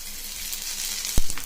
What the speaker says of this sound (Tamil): இப்போ இதை சுற்றி நெய் ஊற்றிக்கோங்க